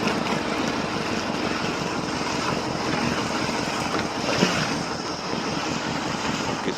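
A river trawler in the Sundarbans is brought in to anchor at a riverside tree. Its steady broadband engine and wind roar run continuously throughout, with no clear voices.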